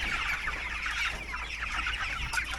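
Broiler chickens, around 19 days old and a hundred head, cluck and chatter noisily inside a coop in a dense, continuous flock clamor with no voices over it.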